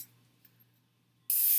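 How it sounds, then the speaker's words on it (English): A short burst of pan-release spray hisses loudly onto muffin papers after a near-silent pause, lasting about a third of a second. "I'm going to spray these with a little pan release"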